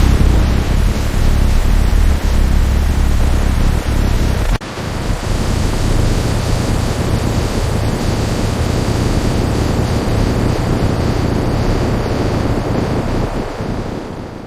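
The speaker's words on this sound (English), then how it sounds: "Each engine is static fired to ensure performance. Testing a single engine on a stand." A single SpaceX rocket engine roars on a test stand during a static fire, a loud, dense, continuous blast that dips sharply for an instant partway through and then carries on steadily.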